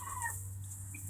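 Chickens cluck softly in brief, faint calls over a low steady hum, close by but quiet.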